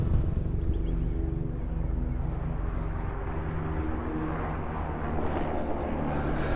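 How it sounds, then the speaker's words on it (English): An aircraft, apparently a helicopter, drones overhead as a steady broadband rumble during an outdoor walk in Coogee, Sydney, near the water, with wind buffeting the microphone throughout. "There's always a helicopter when I'm walking around here."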